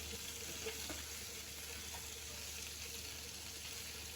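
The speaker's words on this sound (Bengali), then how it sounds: "ডিম রান্না করছি, ডিমটা ভাজছি।" An egg frying in a pan gives a steady, soft sizzle that holds evenly throughout, with faint scraping touches and no voices.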